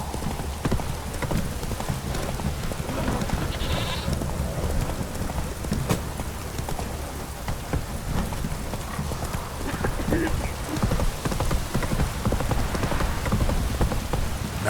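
Roach, the horse in The Witcher 3, gallops in a steady, rapid clip-clop of hooves under falling rain, close and continuous, with a voice speaking over the hoofbeats.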